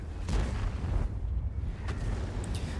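Tank cannon fire in World of Tanks: a few deep, booming shots with a rumbling low end over continuous engine and battle ambience, with no speech.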